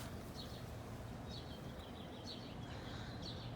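Several birds give short, sharp scolding calls in a garden with a tree and bird bath, faint and repeated at irregular intervals over a low steady background.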